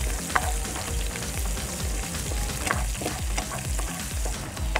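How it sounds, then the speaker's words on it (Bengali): Spices are stirred in a sizzling frying pan, a spoon scraping and knocking the pan in a repeated rhythm over a continuous close frying hiss, with no talk. "এখন আমরা ভালোভাবে মিশিয়ে নেব।"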